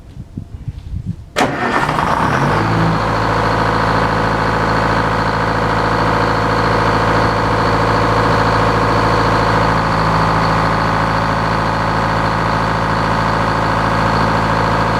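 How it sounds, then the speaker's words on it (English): A sawmill engine on a Frick sawmill cranks and starts, then settles into a loud, steady drone while milling white pine; the pitch stays even with no clear drop in speed. "Did you hear the engine bog down when I activated the alternator?"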